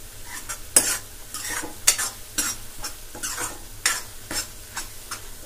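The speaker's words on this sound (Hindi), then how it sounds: "अच्छे से सारे मसालों को मिक्स कर लेंगे।" Spices with Kashmiri red chilli stirred in a frying pan for rajma, a soft steady sizzle broken by repeated scraping strokes of a spoon, close and moderately loud with no talking.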